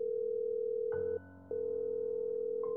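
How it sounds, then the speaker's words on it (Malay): A telephone dial tone hums steadily while a call is being placed, drops out for a brief moment, then resumes as a clear, continuous tone. "aku capai telefon dan cuba hubungi Man semula"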